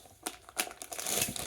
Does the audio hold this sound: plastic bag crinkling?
yes